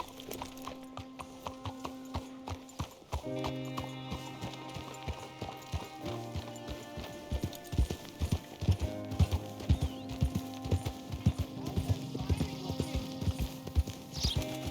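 Horse hooves clip-clopping in the video game Red Dead Redemption 2, a steady walking rhythm over a sustained musical score, with occasional whinnies and little talk.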